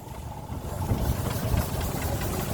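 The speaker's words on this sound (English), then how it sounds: "A 4-inch Foster traction engine owned by Graham Pierce." A 4-inch Foster steam traction engine runs close by at a steam rally, giving a steady low chuffing and mechanical rumble that holds evenly throughout.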